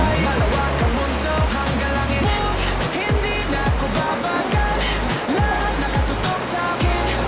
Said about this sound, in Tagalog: Ito may waterfalls.